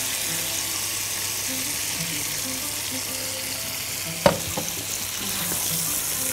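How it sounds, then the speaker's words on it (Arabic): Tomato paste and tomato juice sizzling in a pan, a steady soft frying hiss with a brief clatter of utensil partway through, close and moderately quiet with no talk. "حط الصلصة، وهنحط كده عصير الطماطم"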